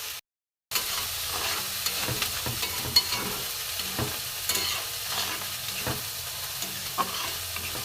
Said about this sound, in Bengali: ডালটা একটু ফুটে যাক, ফুটলে আমি নামিয়ে নেব।